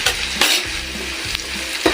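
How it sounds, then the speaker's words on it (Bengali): Potatoes fry in a pan with a continuous close sizzle, punctuated by several sharp stirring scrapes and clatters at irregular intervals; no voices. "তো আলুটা আরও কিছুক্ষণ ভেজে নেব, দিয়ে মশলাটা দিয়ে কষাবো।"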